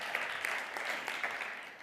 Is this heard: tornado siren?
no